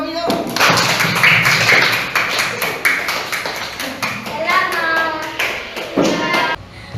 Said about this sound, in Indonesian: tepuk tangan ya untuk Nafi ya